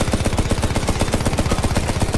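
Rapid automatic gunfire from a video game, a loud continuous rattle of evenly spaced shots at a fast rhythm, close and dominant with no talking.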